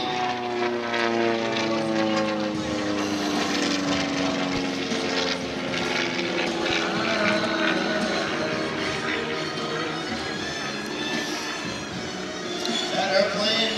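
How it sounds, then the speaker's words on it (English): A Rutan Long-EZ, a canard homebuilt pusher-prop airplane, flies past at the Abbotsford airshow. Its engine and propeller drone steadily, with a pitch that slides as it passes, and an announcer talks over it throughout. "Here he comes from the right, Kyle Fowler in the Long Easy."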